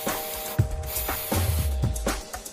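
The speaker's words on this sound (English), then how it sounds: "An aerosol can is made of steel or aluminum and works with the use of a propellant" Aerosol spray from a steel or aluminum can, heard as short hissing bursts with a few mechanical clicks and low thumps across the clip.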